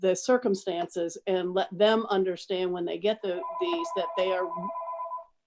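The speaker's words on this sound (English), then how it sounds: "sorry about the phone ringing in the background" A telephone rings in the background of a Virginia Board of Education meeting, a steady electronic tone sounding under and after a man's continuous speech near the end.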